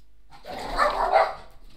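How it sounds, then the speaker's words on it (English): Dogs barking in one short, loud close burst of a couple of overlapping barks. "My dogs decided to go crazy at absolutely nothing"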